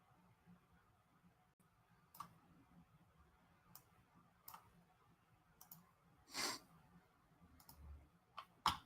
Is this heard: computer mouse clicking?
yes